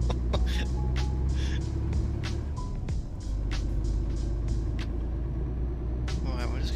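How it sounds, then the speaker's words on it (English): A Scania truck engine in a truck driving game rumbles steadily at low pitch, with a deep continuous drone and a few sharp clicks and hisses on top, while someone talks over it. "Can you hear the truck?"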